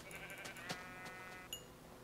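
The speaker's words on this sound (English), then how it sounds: "Oh yeah, I got a herd of sheep." Sheep bleating in a video game, a faint, thin bleat and a brief higher call heard against quiet game ambience, no talking.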